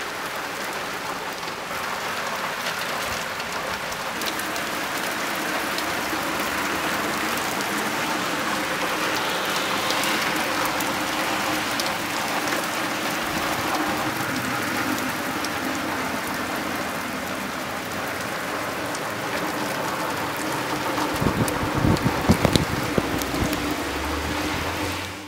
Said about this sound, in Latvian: un tad arī pirmā lietusgāze.